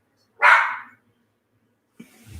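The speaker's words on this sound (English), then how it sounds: "Because I'm still live and Rico's barking" A single loud, close dog bark rings out in a quiet room, followed after a pause by a softer, brief yip or muffled sound.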